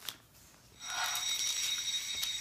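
A timer alarm goes off after a brief quiet start, ringing with a steady, bright electronic beeping at moderate loudness that continues to the end, with no speech.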